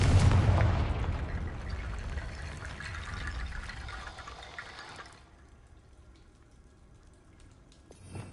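A Confringo blasting spell erupts in Hogwarts Legacy with a loud burst at the start, then a long roaring, crackling blast that tapers off after about five seconds into quiet, with a small thump near the end.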